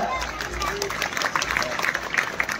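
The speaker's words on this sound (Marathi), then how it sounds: "सगळ्यांनी टाळ्या वाजवायचे।" An audience claps in continuous applause for a drill by first- and second-year schoolchildren, a dense steady patter of many hands with voices mixed in throughout.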